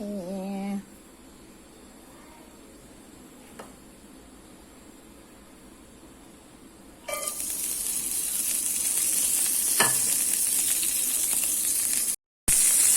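Bean sprouts stir-fried in a little oil for a fried mussel dish: a quiet lead-in gives way to a loud, steady sizzling hiss that holds to the end, broken by a brief dropout.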